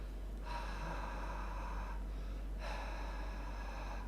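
A voice imitates heavy, raspy breathing heard over a phone line, two long drawn breaths separated by a short pause, faint and close.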